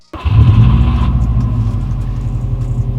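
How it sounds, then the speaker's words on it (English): A turbocharged car engine fires up and settles into a deep, rumbling idle with a brief rev, heard close from inside the cabin with no talk. "it wouldn't be a full video if I didn't start it up and give it a little rev and a little drive."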